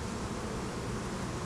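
Dense buzzing of many young honey bees on a hive frame during an almond pollination check, a steady close swarm drone holding evenly throughout.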